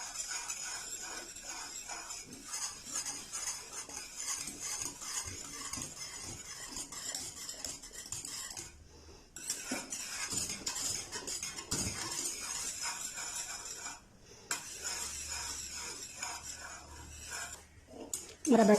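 A thick dessert batter with melting butter is stirred in a pan for a Turkish delight roll recipe, with a steady sizzle, rhythmic spoon scraping and occasional clinks, broken by two brief pauses.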